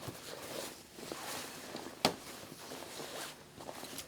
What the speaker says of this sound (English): You know, the waterproof zips.